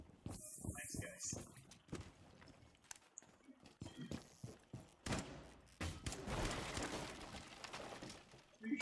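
Gunfire in Rainbow Six Siege, heard as sharp repeated shots and bursts that are loud up close, broken by short gaps and busy game noise.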